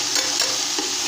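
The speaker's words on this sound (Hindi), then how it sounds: "अब हम अच्छी चम्मच हिलाएंगे" A spoon stirs spices and a chicken stock cube in a pot for pilaf, with soft scraping strokes over a continuous close sizzle.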